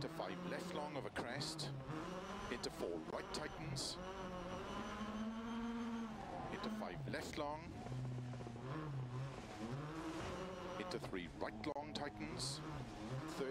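A rally car in the video game WRC 2023 races a Monte Carlo stage on mixed tarmac and snow, its engine revving and shifting steadily throughout, with someone talking over the engine noise the whole time.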